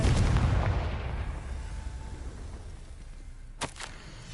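A Confringo fire spell blasts in Hogwarts Legacy, a loud rumbling explosion at the start that slowly fades into a low roar, followed near the end by two short sharp bursts.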